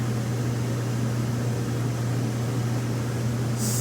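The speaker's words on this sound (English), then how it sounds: "so most of what you're hearing is the fan noise" An RV interior fan runs as a steady, loud broadband whoosh with a low hum beneath it, while a generator outside powers the compressor and stays barely audible. No voices.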